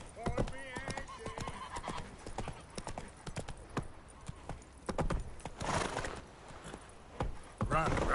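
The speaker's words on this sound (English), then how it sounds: "Run, Roach." A horse gallops in The Witcher 3, with rapid, rhythmic hoofbeats close by that carry through the clip under game sounds and occasional voices.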